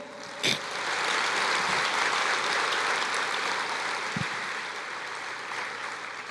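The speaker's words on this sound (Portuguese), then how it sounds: "Você pode aplaudir o Senhor?" A church congregation claps for the Lord during a sermon, a sustained, fairly even roar of many hands that swells after a brief knock near the start and fades slightly toward the end.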